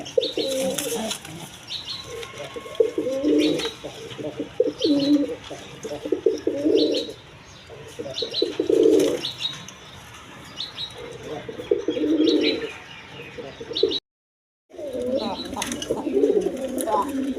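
Rajgolla pigeons at a farm coo in repeated low rounded bursts, close by, with wing flaps and faint chirps between them, and a brief total dropout near the end.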